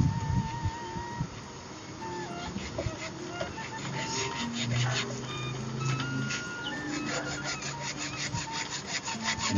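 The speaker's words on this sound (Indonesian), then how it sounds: "Pipanya dipotong terlebih dahulu." A saw rasps back and forth through an old, stiff plastic pipe in a steady, rapid rhythm, close and continuous, with faint background hum.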